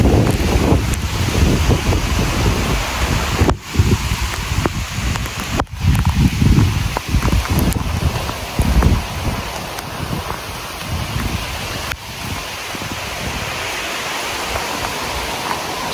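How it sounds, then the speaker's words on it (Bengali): Heavy rain pouring outdoors at an eco resort in Kaptai, Rangamati: a dense, steady hiss of downpour mixed with gusty wind buffeting close to the microphone, with a few sharp thumps and no talking. "সেরকম একটা বৃষ্টি হচ্ছে, বৃষ্টিতে ভিজতেছি।"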